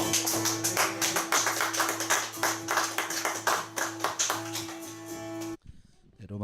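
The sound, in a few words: congregation applause in church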